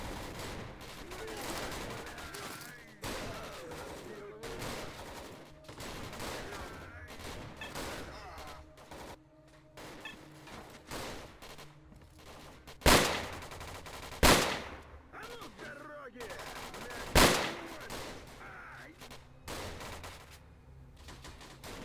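Gunfire rattles through a S.T.A.L.K.E.R.: Call of Pripyat firefight at Yanov, with steady background shooting and three loud, sharp close shots standing out near the end.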